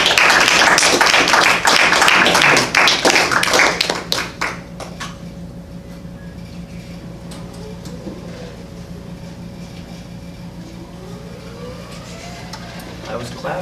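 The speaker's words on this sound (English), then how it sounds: "I was clapping" Audience clapping at a summer open mic poetry night, a dense burst of applause filling the first four seconds and then dying away, leaving a quiet room hum with faint scattered noises.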